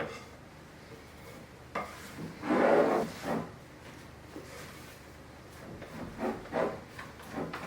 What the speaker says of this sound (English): Cleaning sides of the mixing bowl and the bottom.